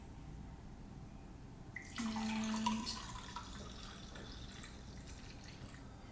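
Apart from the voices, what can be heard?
pouring zucchini, kale, apple and lemon juice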